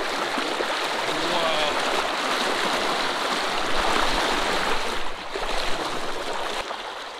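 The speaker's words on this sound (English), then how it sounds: "It's tough in the strong current like this." Strong creek current rushing past while a person wades across during a smallmouth bass jigging trip, a steady, loud broadband wash of flowing water that fills the whole clip with only slight dips in level.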